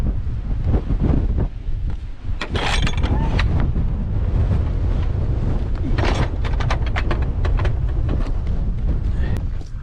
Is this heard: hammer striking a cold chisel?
no